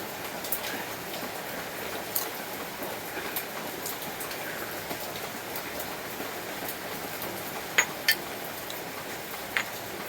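Steady, dense rain hissing without pause, with a few sharper drips or taps standing out now and then.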